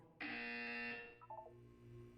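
A buzzer from the video game Portal sounds once, a loud harsh electronic tone that holds about a second and then trails off into short fading beeps over a low background hum.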